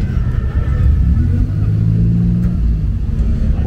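A Citroën SM classic car pulls away at a historic Monte Carlo rally, its engine rumbling loud and close throughout, a deep low growl that swells slightly as it drives off.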